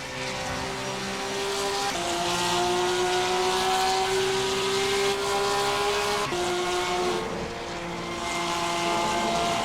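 A race car engine drones steadily through a lap at Spa-Francorchamps, with a loud, continuous high-pitched tone that shifts with gear changes near the two- and six-second marks.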